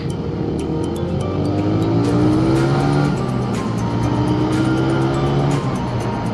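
Vehicle traffic sounds loud and continuous with engine drone and rising revs during a motorcycle ride, likely a bike with an open muffler, with passing cars mixed in at close range.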